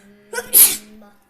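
A single sharp sneeze bursts out, with a quick intake just before and a loud explosive release, up close over a faint steady hum.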